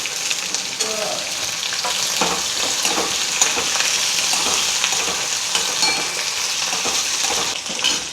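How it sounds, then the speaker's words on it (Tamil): Okra with chillies and curry leaves sautéing in hot oil in a pan, a steady close sizzle with occasional stirring scrapes and clinks, no talk. "வெண்டைக்காய் வதங்கட்டும்."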